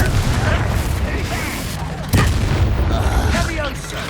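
Confringo spell explosions in the Hogwarts Legacy video game: a dense, rumbling battle din with a sharp booming blast near the middle, followed by continued crackling impacts.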